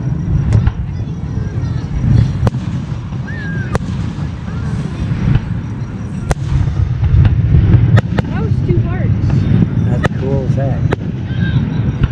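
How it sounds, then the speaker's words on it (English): Fireworks bang repeatedly at a Fourth of July show in Oak Run, sharp reports spaced irregularly over a steady crowd murmur and nearby voices talking. "So he he gets a lot of fireworks."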